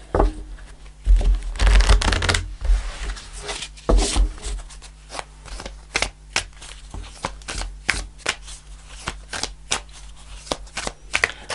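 Tarot cards shuffled by hand before a card is pulled, a close run of riffling, flicking and tapping bursts, denser at first and then sparser, alone without talk.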